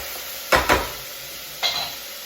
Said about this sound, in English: It kind of sweats out the onion and helps them to cook and not to char.